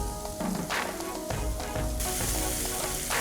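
Onions and garlic sizzle steadily in a hot pan as a sautéing base for a beef tongue (lengua) dish, a continuous close frying crackle with occasional stirring, no talk.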